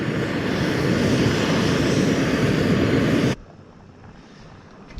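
An MSR Pocket Rocket camping stove burns at a wild camp in the Moffat Hills, roaring in a loud, close, rushing blast that stops abruptly after about three seconds, leaving quiet outdoor ambience.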